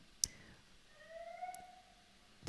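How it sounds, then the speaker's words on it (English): A faint, wavering siren tone rises and falls in the distance, with a few sharp clicks breaking the quiet. "there's a random alarm siren"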